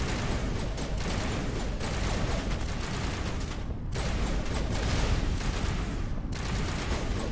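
Rapid, dense gunfire from a Mass Effect 1 firefight, sniper rifle shots mixed into a steady barrage of loud, overlapping bursts that hardly let up.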